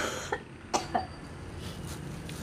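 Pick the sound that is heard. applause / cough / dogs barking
cough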